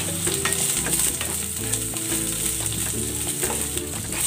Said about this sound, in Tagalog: Igigisa ko na tong bawang. At ang sibuyas.